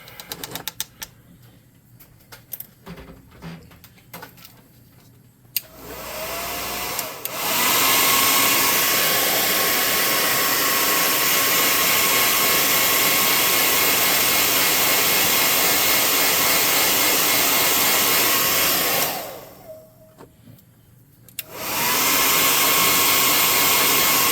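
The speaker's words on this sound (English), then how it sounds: "Then we're going to air gun this and dry that off." An air gun blows steadily and loudly to dry paint on cave terrain scenery, a long continuous hiss that stops briefly and then starts again, with quiet handling clicks before it begins.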